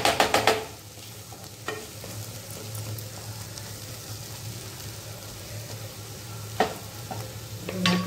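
Egg masala with pav bhaji masala being stir-fried in a pan, a steady low sizzle with sharp scraping clatters of the spatula at the start and occasionally later, up close.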